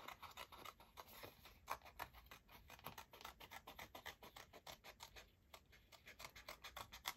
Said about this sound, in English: let's just cut this half out here